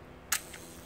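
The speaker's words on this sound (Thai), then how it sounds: "นี่ผมเทสไทม์เมอร์ที่สปีดหนึ่ง" Self-timer release on a Zeiss Contax IIIa film camera under test: a single crisp mechanical snap, close and clear, then a fainter secondary click a moment later over quiet room hiss.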